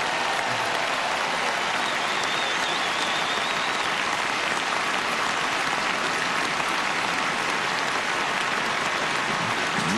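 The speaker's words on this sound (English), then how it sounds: "Merci d'applaudir Sarah Errani." A tennis crowd applauds Sara Errani after the 2012 final against Sharapova, steady dense clapping filling the whole stretch like heavy rain, loud and unbroken with no voices standing out.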